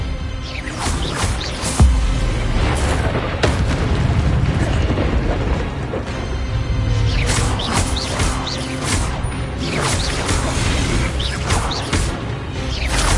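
Spellcasting combat in the Hogwarts Legacy video game, with a disarming spell cast amid a loud, continuous wash of magical bursts, crackles and booming impacts that carries on without a break.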